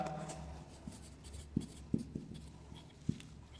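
Chalk or marker taps and scratches on a board while the answer is written, a few quiet sharp strokes in a classroom with no talking.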